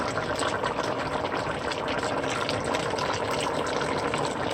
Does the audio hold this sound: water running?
yes